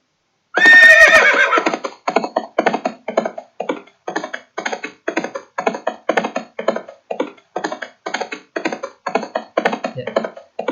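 A Scratch horse sound effect opens with one loud, close neigh, followed by a steady looping run of rhythmic hoof clip-clops that continues to the end, with no speech.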